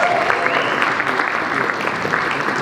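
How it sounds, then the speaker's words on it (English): Applause from a live audience at a comedy and performance show for a performer named Diane, dense steady clapping from a crowd lasting the whole moment, with faint voices mixed in. "big round of applause for Diane"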